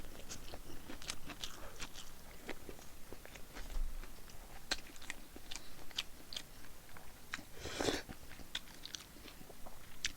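Homemade instant tteokbokki is chewed close to the mic, a quiet series of sticky, wet bites and crunchy mastication sounds with irregular rhythm, no talking.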